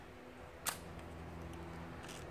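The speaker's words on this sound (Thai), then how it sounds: "ขึ้นชัตเตอร์ขอเทส B ก่อนนะครับ" Single crisp shutter release of a Zeiss Contax IIIa rangefinder camera fired on the B setting during a post-repair test, a sharp close click over a faint background hum.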